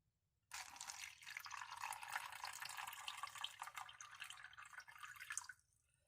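A glass fills with water poured from a tap: a steady, close splashing stream runs for about five seconds, then stops abruptly, with no talking.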